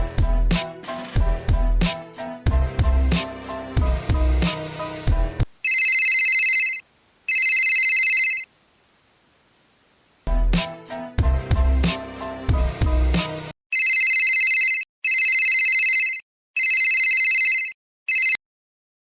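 A telephone ringtone rings in repeated electronic bursts, alternating with stretches of loud music from a television playing in a room, during a Telugu comedy skit; the rings are clear and close.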